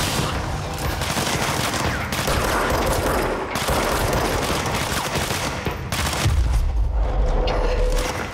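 Gunfire in the video game Control: dense, loud bursts of automatic shots and heavy booms form continuous, chaotic combat noise, with brief pauses and deep impacts near the end.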